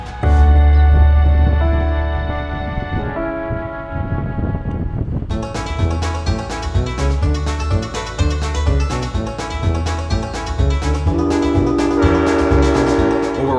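A White Pass Railroad train in Alaska rolls along the rails with a steady rhythmic clatter, a horn blowing loudly at the start, heard close and continuous throughout.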